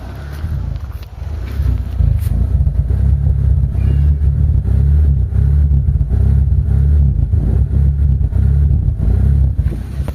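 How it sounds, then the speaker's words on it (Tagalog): A misfiring Mitsubishi Lancer idles roughly up close, its exhaust giving a loud, uneven low rumble with irregular pops and pulses that continue steadily throughout. "puputok-putok yung tambucho nya"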